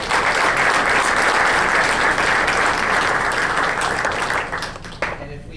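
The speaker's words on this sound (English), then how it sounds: "Please give Pastor Brad Winship a round of applause" Loud, dense audience applause for a pastor at a God and Country event fills the room continuously, then thins and tapers off near the end.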